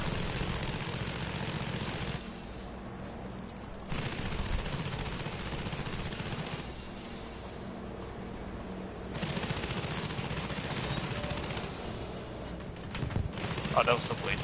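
Bomber aircraft engines drone continuously in the Battlefield video game, punctuated by bursts of tail-gunner machine-gun fire that switch on and off in sections, with voices talking over the noise.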